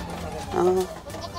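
A goat gives a single short, nasal bleat at close range, set against low background noise and surrounded by people chatting nearby.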